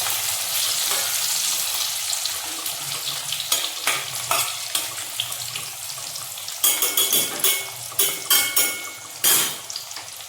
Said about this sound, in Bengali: আলুগুলো ভেজে নিই প্রথমে।